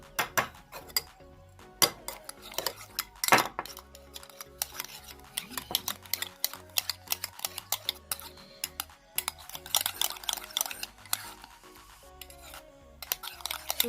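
Vaseline and egg are mixed for a face mask in a small bowl with a utensil, giving irregular clinks, taps and scraping strokes, some bursts quicker and denser, fairly close and otherwise quiet.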